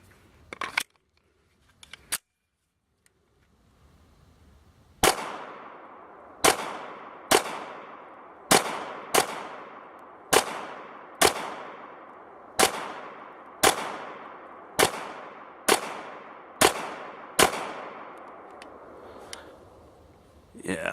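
An HK VP40 handgun fires a full magazine at a range, giving about fifteen sharp, loud shots in a steady, evenly spaced rhythm. Each crack decays quickly, and there are a few faint clicks before the string begins.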